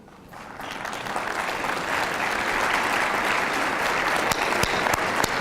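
A crowd at an MLK Day march and church coalition gathering breaks into applause that builds quickly into steady, dense clapping, with a few sharper claps standing out near the end.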